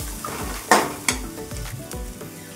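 Coconut pulihora ingredients are stir-fried in a pan, with a close, crackling sizzle broken by repeated scraping spatula strokes and a couple of sharper clanks against the metal.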